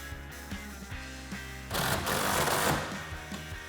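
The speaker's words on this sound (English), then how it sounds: "Grab your 9/16 socket and tighten that down." Ratchet with a 9/16 socket tightens a clamp for a vinyl tonneau cover on a 2009-2018 RAM 1500 truck bed, a close run of regular ratcheting clicks interrupted by a brief louder rasp.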